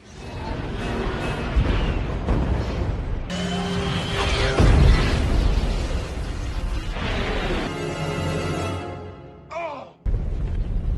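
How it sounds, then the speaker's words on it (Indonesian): A nuclear missile strike hits an alien spaceship in the 2010 film Skyline: loud, dense rumbling blasts and roaring debris fill the scene, followed by sweeping, shifting tones, a brief dropout, and a renewed roar. "Pesawat yang dikendalikan tentara itu mulai menyerang kapal alien menggunakan rudal nuklir"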